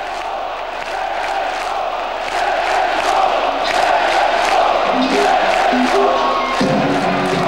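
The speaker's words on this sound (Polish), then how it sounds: "Tak publiczność wiwatowała muzyków na scenie." A concert crowd roars and cheers continuously for the band on stage. The dense, loud crowd noise swells higher after the first couple of seconds and stays steady to the end.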